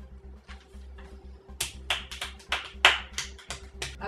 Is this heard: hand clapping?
yes